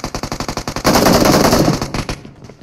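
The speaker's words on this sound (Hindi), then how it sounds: "दो गोलियां मारे इसको." Automatic gunfire in the mobile shooter game BGMI: a rapid, evenly spaced burst of about a dozen loud shots, then a denser roar of fire that tapers off, close and dominant.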